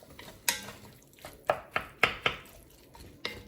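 A spoon stirs minced garlic through ground beef and fresh vegetables in a soup pot, producing close, irregular clinks and scrapes against the metal, about eight sharp knocks with no talking.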